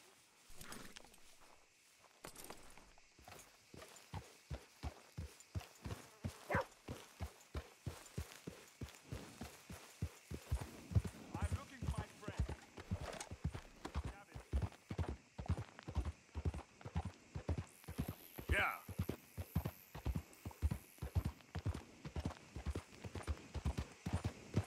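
Horse hooves clip-clop steadily in Red Dead Redemption 2, a continuous rhythmic walking-to-trotting beat that runs throughout at a moderate, fairly quiet level.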